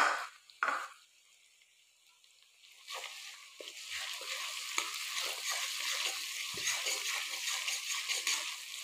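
Ginger garlic paste sizzling and frying in a pan for Assamese beef bhuna, starting with a few clanks and then building into a steady, close, crackling sizzle that carries on to the end.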